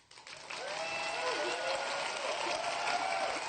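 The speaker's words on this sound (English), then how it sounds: "I'd like you to applaud." A conference audience at a Python developer event applauds for a decibel meter demo, a steady wash of clapping building in within half a second and holding evenly, moderately distant.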